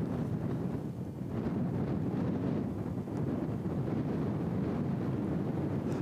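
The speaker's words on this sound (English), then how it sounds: "You can definitely hear the wind." Steady, roaring wind at a mountain base camp buffets the microphone throughout, a constant low rumble with slight gusting swells and no voices.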